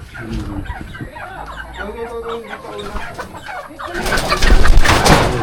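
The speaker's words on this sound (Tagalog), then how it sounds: "Ang daming manok." Hens cluck and chatter close by on a farm while a person talks over them, with the flock growing louder and more agitated near the end.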